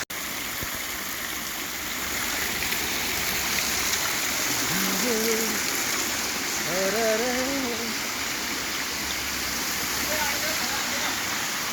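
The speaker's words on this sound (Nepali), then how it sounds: "माथिबाट पानी झरिरहेको छ यो सबै 12 महिना झरिरहेको छ पानी" Spring water pouring down from above at a temple, falling year-round, gives a continuous steady rush that holds level for the whole stretch, with faint voices briefly audible beneath it.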